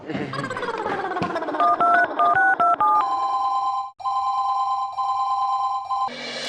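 A quick series of dial tones is keyed in, followed by a steady repeating ring tone with short pauses between rings.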